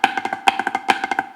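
Snare drum playing flam drags with the double stroke slurred too wide, a quick run of crisp, close hits with smeared grace notes grouped in uneven bursts.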